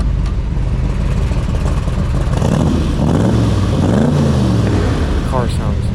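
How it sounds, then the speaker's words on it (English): A 1965 Shelby Cobra engine revs loud and close, a deep meaty roar that rises and falls through a couple of throttle blips, with a steady rumbling idle underneath. "The car sounds very good."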